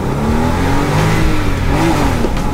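A Porsche 993 Cabrio engine revs steadily through first and second gear, a continuous mid-pitched drone with rising and falling tones, close and loud with no talk.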